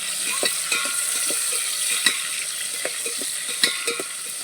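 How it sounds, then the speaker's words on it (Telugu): A spoon scrapes and clicks in a pan of sizzling tomatoes being fried for a fish curry, with a steady frying hiss and irregular light stirring knocks throughout. "మనం టమాటా వేసామండి ఇప్పుడు కలిపెట్టుకున్నాం"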